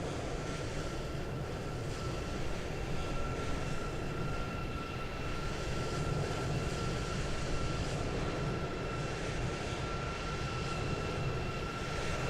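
An Airbus A319 on approach from London in a flight simulator game, giving a continuous loud steady jet-engine roar with a faint high whine, no voices.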